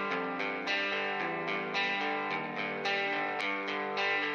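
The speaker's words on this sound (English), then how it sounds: "loads of vintage reverb character" An electric guitar plays chords through the Rogue Gold vintage reverb plugin, a sustained, distorted, effected tone with strums re-struck every half second or so and a lingering wash between them.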